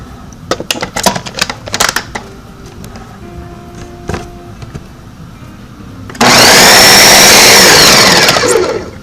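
A blender whirs loud and steady, blending a smoothie of banana, peach, pineapple, strawberry, almond milk and yogurt, kicking in abruptly after scattered clicks and handling noises.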